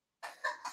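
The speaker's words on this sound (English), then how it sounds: "Oh, that poor baby's coughing." A baby's cough, two or three quick close hacking bursts in under a second, heard alone.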